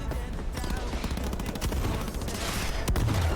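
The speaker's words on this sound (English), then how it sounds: "Big explosions" Loud explosions and gunfire bursts in the Cyberpunk 2077 video game, dense and continuous with heavy low rumble and a sharp blast near the end.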